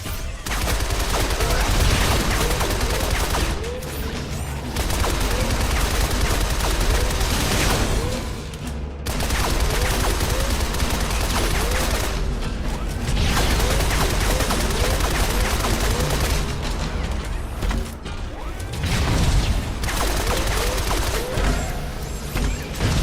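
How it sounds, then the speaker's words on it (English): Dense rapid gunfire from the video game Shadow Complex, loud continuous bursts with brief pauses between volleys and a faint voice talking beneath. "just use your infinite ammo to shoot him"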